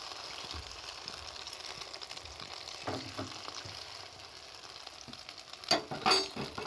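An egg sizzles steadily in hot oil in a kadai, a constant crackling fry close up, with a few louder spatters and stirring scrapes near the end.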